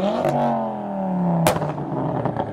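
A JDM car pulling away from a night-time car meet, its engine revving upward in a rising, tonal exhaust note, then a sharp burst or crackle and further rough exhaust pops as it moves off.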